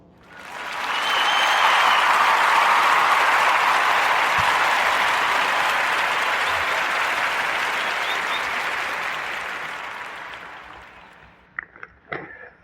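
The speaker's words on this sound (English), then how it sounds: "So we're going to give a warm narrative podcast round of applause for Sadio Maine." A podcast audience breaks into a broad, loud wash of applause that swells quickly, holds for several seconds, then fades away, leaving a few scattered claps and knocks at the end.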